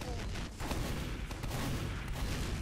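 Gunfire rattles in a squad-based online shooter, repeated muffled shots and bursts in an irregular rhythm at moderate distance, forming a dense, rumbling backdrop.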